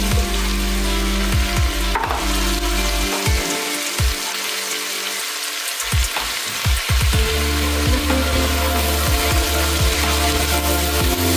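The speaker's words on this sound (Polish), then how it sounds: "Smażymy kolejne 2-3 minuty." Chopped carrots, celery and other vegetables fry in a pot for Greek bean soup, sizzling loudly and steadily, with repeated scraping stirs of a utensil against the pot.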